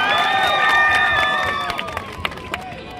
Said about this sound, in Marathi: तर जोरदार टाळ्या होऊन जाऊ द्या या कलाकारांसाठी मित्रांनो